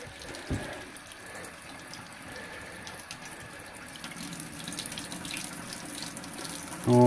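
Hot water runs steadily from a tap in a cabin-style home in snowy weather, a continuous close splashing stream with a brief bump near the start and a louder knock at the end.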